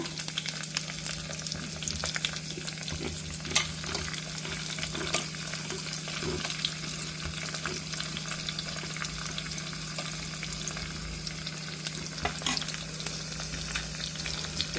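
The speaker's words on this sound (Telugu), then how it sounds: "చూడండి ఇవి వేగుతున్నాయి కదా" Green chillies frying in oil in a pan for an amla pickle give a steady, even sizzle that runs the whole time, with faint stirring scrapes and no voices.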